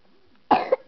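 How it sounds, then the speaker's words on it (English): A baby girl gives a single short, close cough with a quick second burst, loud against an otherwise quiet room. "She's coughing."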